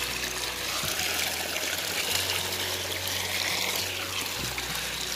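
Heavy-rain runoff pours steadily over a field ridge in rural Konkan, a continuous loud rush and gurgle of water close by with no pauses.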